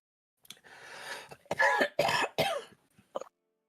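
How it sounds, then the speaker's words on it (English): A person coughs several times in quick succession, harsh and close, with a short rough throat-clearing cough trailing after a pause. "A little bit of blood gets coughed up."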